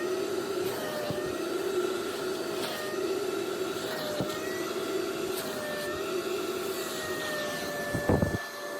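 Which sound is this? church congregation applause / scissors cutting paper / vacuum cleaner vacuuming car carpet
vacuum cleaner vacuuming car carpet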